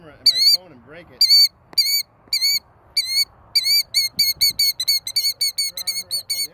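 A killdeer guarding its eggs calls again and again in shrill, piercing cries, first in spaced bursts and then in a rapid run. The calls are close and loud over faint background rustle.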